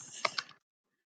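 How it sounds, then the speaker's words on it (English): A short burst of quick, clicky keystrokes, close and quiet, ending after about half a second into silence. "Sorry about my typing."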